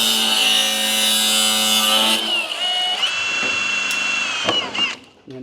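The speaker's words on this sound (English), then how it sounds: "I'm gonna get the cutoff wheel, cut that" A cutoff wheel grinds through rusty steel on a 1970s Ford F100 truck bed, a loud, steady high-pitched whine that drops in pitch and breaks into short bursts as the cut finishes.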